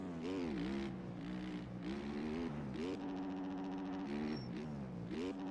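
Motorcycle engine in the video game MX Bikes, a loud buzzing whine that repeatedly revs up and drops as the throttle rises and eases, steady and close throughout.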